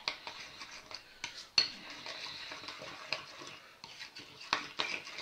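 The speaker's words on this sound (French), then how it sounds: "Et après, on va mélanger le tout." A spoon scraping and clinking against a bowl while stirring a cream sauce seasoned with salt and white pepper, a quick irregular run of close, soft scrapes and light taps.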